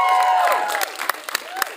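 A live audience applauds and cheers for the creator of the short film Makmum, with a tonal sweep and bursts of crowd noise running through the clapping.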